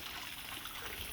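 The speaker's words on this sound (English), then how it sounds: "Nice little water feature, how about that?" A small garden water feature at a tropical rental home on Denarau Island, Fiji, trickles and splashes in a steady, even wash of water, close by and alone, with no voices.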